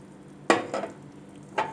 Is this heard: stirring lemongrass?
yes